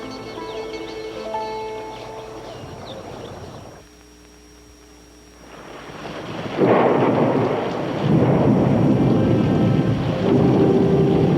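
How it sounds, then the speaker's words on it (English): A sudden summer storm in a Belarusian forest by the Berezina, with loud rolling thunder and heavy rain, a brief lull midway, then the downpour swelling again, close and steady. "a sudden summer storm forced the wild animals to seek shelter in the forest"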